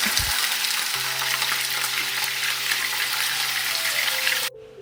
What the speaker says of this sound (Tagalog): habang piniprito ko yung bangus